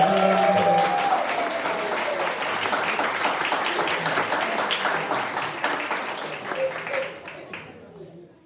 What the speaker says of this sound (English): Let's give them one big big round of applause